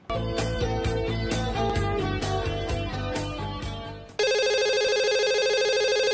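In the video game Party Mania, a phone rings with a repeating electronic ringtone, first layered over game music with a rhythmic beat, then ringing alone as a bright sustained tone.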